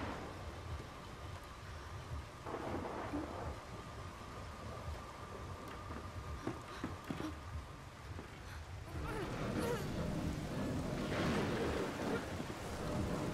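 Rain pouring steadily in the Fatal Frame video game, with low rolling thunder rumbling underneath, growing heavier and louder in the later half.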